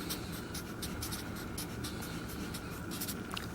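Pen or marker scratching steadily across a surface while writing out a math problem by hand, a continuous close stroking texture with quick repeated strokes and no talking.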